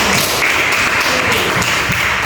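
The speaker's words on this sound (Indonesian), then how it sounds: "Tepuk tangan untuk hasil kerja kalian semua." A room full of training participants claps for the results of their group work, a steady dense patter of many hands at close range, sustained and loud without a break.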